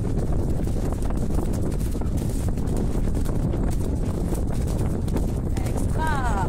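Horses trot steadily along a countryside trail in a group ride, hoofbeats blending into constant wind buffeting against the microphone, loud and close throughout.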